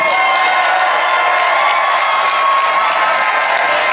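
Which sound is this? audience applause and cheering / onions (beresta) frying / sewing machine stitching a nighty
audience applause and cheering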